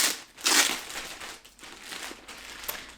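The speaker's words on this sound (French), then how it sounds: "Je vais le déballer pour que vous puissiez voir à quoi il ressemble sans le plastique." Crinkling plastic wrapping being handled and pulled on a new burgundy bag, close and irregular, with a louder crackling burst near the start and softer rustles after, no talking.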